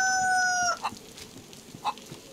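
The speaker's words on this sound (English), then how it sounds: "Oh, there's the rooster." A rooster in the survival game DayZ crows once with a clear drawn-out call up close, followed by a couple of short clucks.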